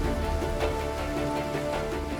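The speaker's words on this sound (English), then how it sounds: "as the rain continues to pour down" Heavy rain pours down steadily in a dense, even wash with no break, under a low rumble.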